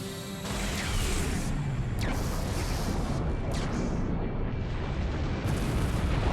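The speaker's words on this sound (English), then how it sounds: "There's Lemurus firing anti-aircraft lasers." Lemurus firing anti-aircraft lasers in Fuga: Melodies of Steel 3, a continuous loud roar of booming blasts and mechanical bursts with sweeping zaps across it, sustained without pause.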